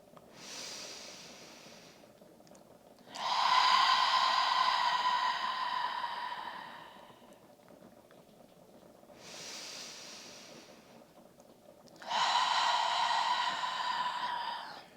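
Slow, deep yoga breaths at the close of a home vinyasa flow: two full cycles of an airy inhale followed by a longer, louder hissing exhale, close and alone with no talk.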